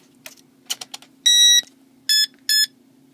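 Radio-control receiver for a Futaba transmitter beeping as it enters bind mode: a few short soft clicks, then three loud, clear electronic tones, one long followed by two shorter, with a low steady hum underneath.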